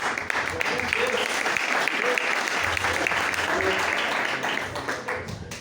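Church congregation applauding in praise during a Portuguese-language worship service, steady continuous clapping throughout with a voice faintly audible underneath.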